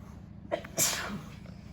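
A single sharp sneeze from the person behind the camera in an elementary school classroom, close and sudden with a short lead-in breath, then quiet room tone.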